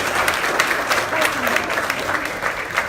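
Audience applauding continuously, a thick steady patter of many hands clapping with a few sharper claps standing out and faint voices underneath.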